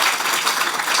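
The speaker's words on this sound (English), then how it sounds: "Can we have applause, please?" Audience applause at a Save Soil stage event: a dense, even wash of many hands clapping, loud and continuous through a brief moment.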